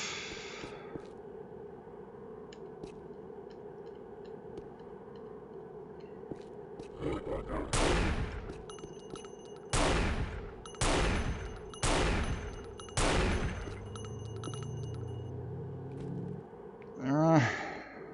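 Video game gunfire in Unreal: a handful of separate loud shots or blasts spaced a couple of seconds apart over a low droning ambience, ending with a warbling burst.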